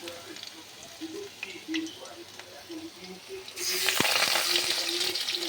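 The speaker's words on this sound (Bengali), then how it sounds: "সবগুলো ধনেপাতা আমি এইভাবে চুবি চুবি ভেজে নিচ্ছি গোটা গোটাই" Coriander leaves dipped in batter and fried whole in hot oil, with a soft sizzle under a voice that bursts into a louder, steady crackling fry near the end.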